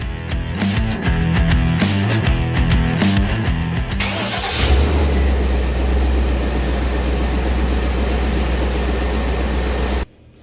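A 1998 GMC Sierra work truck engine in a garage with a suspected exhaust leak, giving a loud rapid rattling idle that shifts into a steady low drone before cutting off abruptly.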